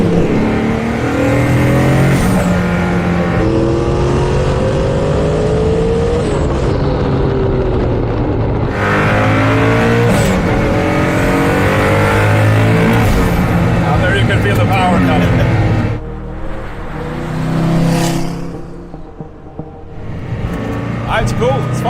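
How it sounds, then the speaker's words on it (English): A Hennessey hypercar running on E85 ethanol revs hard and accelerates, its loud engine rising and falling through gear changes and passing close by, with people talking underneath. "Mr. von Koenigsegg tries America's hypercar for the very first time"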